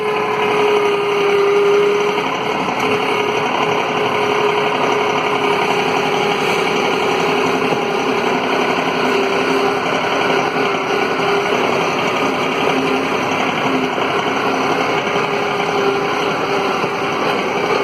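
A Mahindra 2555 tractor pushes snow off a driveway with a County Line straight blade, its engine running at a steady, loud, close drone with a faint whine riding over it throughout.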